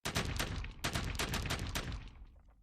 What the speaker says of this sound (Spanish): el intercambio de disparos de armas de fuego comenzó